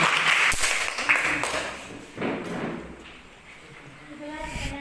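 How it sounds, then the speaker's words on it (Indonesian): Classroom applause from students at a state senior high school, a burst of clapping with thumps that fades after about two seconds, then a quieter second swell, with voices talking over it. "Kasih tepuk tangan dulu."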